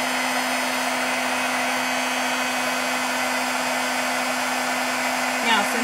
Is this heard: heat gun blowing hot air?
yes